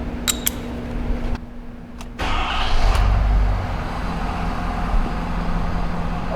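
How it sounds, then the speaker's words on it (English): A 2017–2024 Ford aluminum-body truck starts up with clicks and a brief cranking burst, then settles into a steady, close idle that hums on alone. "Now all I need you to do is start the truck up, turn the wheel to the left"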